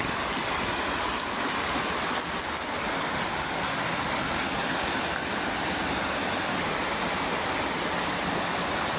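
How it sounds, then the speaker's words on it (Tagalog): A strong river current rushes in a constant, loud, broadband roar of turbulent water at close range, steady throughout, with no voices. "Medyo malakas po yung agos ng tubig dito"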